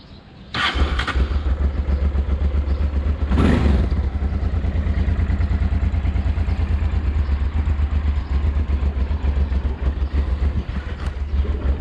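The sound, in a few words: motorcycle engine starting and idling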